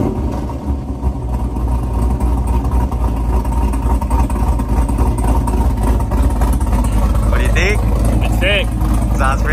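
A 2023 Camaro 1LE with a Texas Speed cam runs with a deep, steady, lumpy idle rumble close by, while people talk over it.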